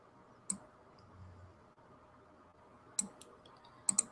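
Computer mouse clicking while working in Canva: a few sharp, faint clicks, one alone and then quick pairs, over a quiet room hum.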